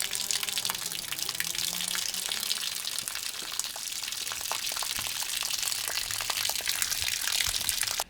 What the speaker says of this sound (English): start draining out any residual water that I have in the system